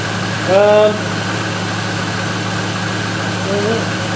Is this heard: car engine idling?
yes